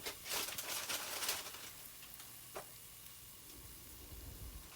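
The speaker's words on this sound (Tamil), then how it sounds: "இப்போ நாங்கள் சூடாக இருக்கிற எண்ணெயிலேயே பிரியாணி செய்கிறதுக்கு தேவையான பட்டை, அன்னாசிப்பூ, ஏலக்காய், கிராம்பு போட்டு வதக்குவோம்." Whole spices, cinnamon, star anise, cardamom and cloves, fry in hot oil for chicken biryani with a faint, steady sizzle and a brief crackling burst near the start.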